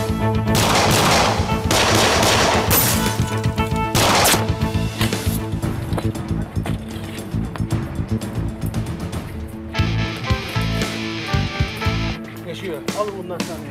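Gunfire in a police shootout scene from a Turkish crime drama, with loud bursts of shots and heavy impacts layered over dramatic music and voices, fading into a tense sustained musical tone.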